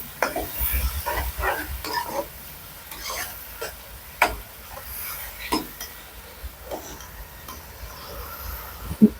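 Tomatoes fry and get stirred in a pan for loki gosht, a bottle gourd and meat curry, giving a steady close sizzle broken by a scatter of scraping and clinking spoon strokes.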